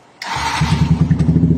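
A motorcycle with a VMAX full exhaust, no baffle, cold-starts after two weeks unused: a sudden crank and catch, then a loud, close, steady throbbing idle with no talk.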